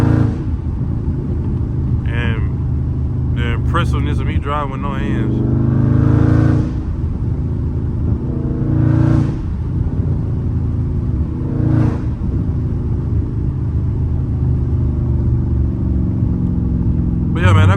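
A Dodge Charger Scat Pack engine rumbling low and steady while cruising, swelling briefly a few times, heard from inside the car as someone talks over it.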